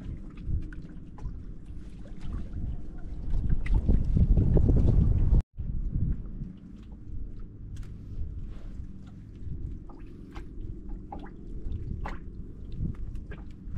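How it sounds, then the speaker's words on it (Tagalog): Strong wind roars against the microphone in a low, buffeting rumble that swells louder for a few seconds before a brief cut, then gusts on steadily. "Grabe hangin ah."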